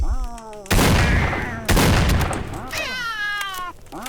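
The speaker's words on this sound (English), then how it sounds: "Turn around for 2 seconds and then suddenly there's a literal pack of cats coming at you" Mutant cats in the S.T.A.L.K.E.R. video game give loud, warbling yowls at close range. Two booming blasts of gunfire cut across them, then a long wavering caterwaul follows.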